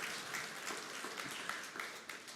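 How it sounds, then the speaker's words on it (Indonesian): A church congregation claps together, a steady wash of applause at a fairly quiet level with no voices over it. "Yang mau kita beri tepuk tangan yang meriah bagi Tuhan."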